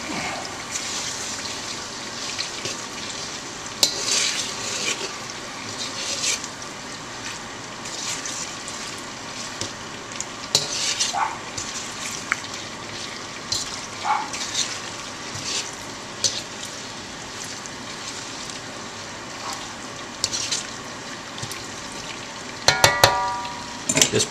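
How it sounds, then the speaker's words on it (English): Jumbo shrimp and scallops fry in hot oil as they are stirred, a constant bubbling sizzle with intermittent clinks and scrapes of the utensil, a cluster of sharper clatters near the end. "placed all the seafood in the oil, and we're going to just stir it around"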